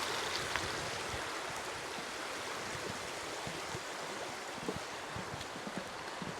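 A river flows past stepping stones on a Victorian royal estate, a steady, close rushing and babbling of water that carries on unbroken with no talk.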